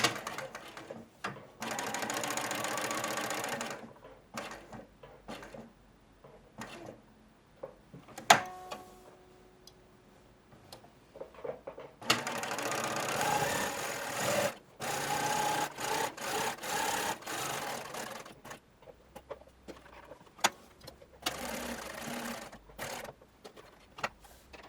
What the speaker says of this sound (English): So the edges of the collar are machined.